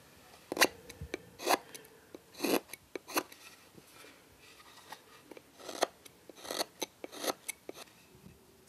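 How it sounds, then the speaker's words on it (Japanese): A chisel carving the face of a wooden Noh mask, with irregular, close scraping and cutting strokes in short bursts separated by quiet pauses and no voices. "のみを使い丁寧に顔を彫っていく。"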